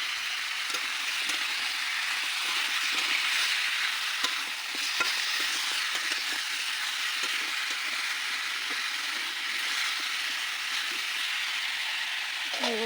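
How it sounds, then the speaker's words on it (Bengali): Chicken feet frying in a wok over a village kitchen fire, a steady loud sizzle with scattered stirring scrapes and clicks throughout, no talking. "মাংসটাকে ভালো করে ভেজে নেব আগে"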